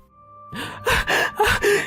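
Several people pant hard, out of breath after running, standing in the middle of a road. Four or so loud, close, ragged gasping breaths come in quick succession.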